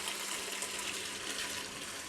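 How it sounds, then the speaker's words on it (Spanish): Magnetic water pump running and pushing water into a bucket, a steady broadband rush of flowing water with a faint constant hum underneath, continuous and close throughout. "sientan el zumbidito que hace cuando comienza a tirar el agua."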